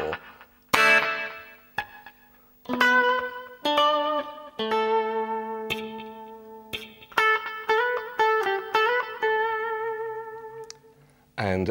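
An electric guitar plays a melodic passage from the clean outro of a song, plucked single notes and ringing tones with effects, some notes sustaining, others short and rhythmic.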